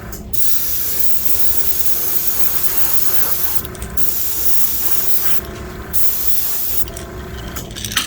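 An airbrush sprays Borealis green color-shift paint over a Wiggle Wart fishing lure in a continuous close hiss, broken by three short pauses.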